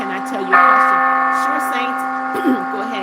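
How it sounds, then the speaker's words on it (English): Church bell alarm from a Bible app on a phone, loud close tolling with a long ringing sustain and a second strike near the end, with a faint voice in the background. "church bells are ringing"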